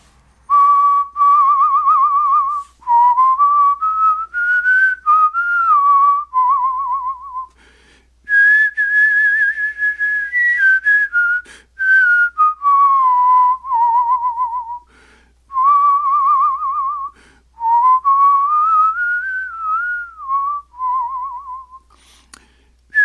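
A person whistles the Mexican tune La Paloma, a clear, loud solo melody in several long phrases with brief breaths between them and no other sound.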